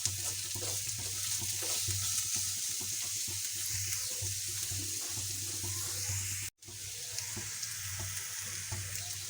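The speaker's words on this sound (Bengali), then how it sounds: "এই পেঁয়াজের সাথে আমি ভেজে নেব" Chopped potatoes frying with onion in a pan give off a steady, loud sizzle with stirring scrapes throughout, broken by one brief dropout near the end, under a constant low hum.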